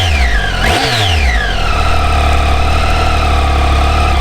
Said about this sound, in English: And a very, very smooth, responsive motor